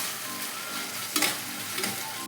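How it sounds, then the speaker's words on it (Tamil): Ginger-garlic paste being sautéed in a pan for double beans kurma, a steady close sizzle with a couple of brief scraping stirs partway through, no talking. "போட்டு நல்லா வதக்கணும். இந்த பச்சை வாசனை போகிற வரைக்கும் வதக்கணும்."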